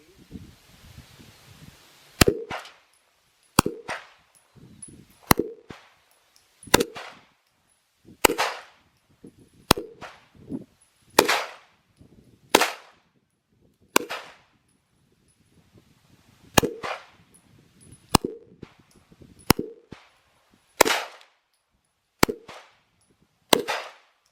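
A Browning Hi-Power handgun fires about fifteen rounds, each a sharp, loud crack followed by a brief decaying echo, spaced at a slow, steady pace of roughly one shot every second and a half.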